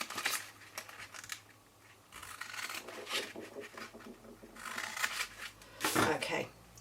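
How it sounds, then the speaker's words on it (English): Scissors snip and cut through cardstock for a Stampin' Up champagne box, giving several close, crisp cutting and rustling strokes with paper handling in between, under a quiet voice. "So snip that away and then cut up these lines here."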